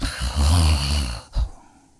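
Loud, close snoring from a sleeping wife at night, one long rumbling inhale then a shorter snort after a brief pause, heard alone without talk.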